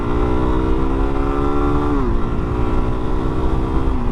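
A 2022 Suzuki DR-Z400S dual-sport motorcycle with a carbureted engine pulls hard and steadily, its loud, close drone dipping briefly in pitch partway through before climbing again.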